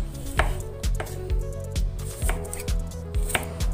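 A knife slices through a tomato on a cutting board, producing a steady series of crisp, close chopping strikes over a constant low tonal background.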